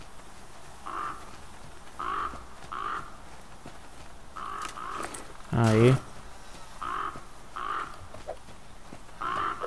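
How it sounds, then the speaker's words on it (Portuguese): Crows caw repeatedly in the survival video game The Flame in the Flood, a steady series of harsh, evenly spaced calls over a constant ambient hiss, with one louder nearby caw, and someone speaks briefly once. "Ai, corvo chato."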